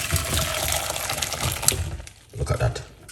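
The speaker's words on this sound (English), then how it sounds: "pour it off" Liquid poured off while a homemade energy drink is being made, a splashy gushing stream of water that fades briefly and then returns for a moment.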